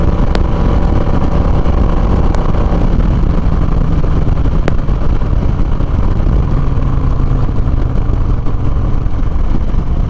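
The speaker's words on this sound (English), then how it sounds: "I'm trying to get as best exhaust sound that I can for you guys, but it sounds really smooth throughout the entire thing" A motorcycle fitted with a Fuel Moto Jackpot RTX Riot 2-into-1 shorty exhaust rumbles along while riding, a loud, steady, smooth engine drone heavily mixed with wind rush, with no talk over it.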